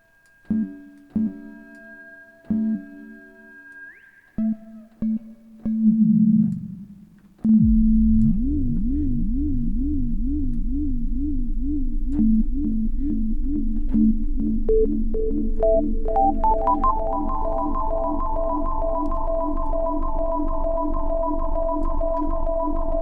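Audio feedback is shaped for sound design in Ableton Live: sparse tonal blips give way to a sustained buzzing loop with a repeating sweep, then layered tones stack and climb in pitch, loud and continuous.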